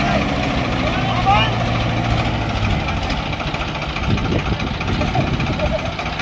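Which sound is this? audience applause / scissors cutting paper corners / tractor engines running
tractor engines running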